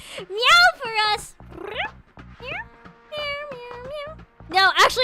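A cat meowing in several short, high, bending cries with brief pauses between them, close and fairly loud, with a voice heard between the calls.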